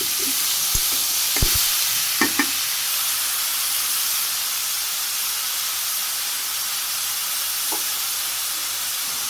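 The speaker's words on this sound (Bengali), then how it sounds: "মাছটা ভাজি করা হয়ে গেছে তেলের মধ্যে আমি সবজি দিয়ে দিলাম" Boal fish already fried, vegetables now added to the hot oil, with a steady faint sizzle throughout and a few sharp clinks or stirring knocks early on, no talking.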